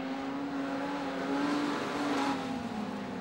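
Race cars on a track, a steady engine drone holding a sustained tone with slight rises as the cars run, fairly distant and continuous with no talk.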